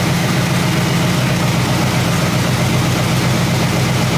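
Engine of a 1977 Pontiac Grand Safari station wagon, left abandoned for 30 years, runs on brake cleaner in a loud, steady rough idle close by, with no talk.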